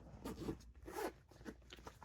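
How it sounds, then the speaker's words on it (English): A medium-sized Anya Hindmarch pouch is zipped shut with a quick, close, ratcheting zipper pull in a few short strokes, alone and fairly quiet. "And let me zip this up."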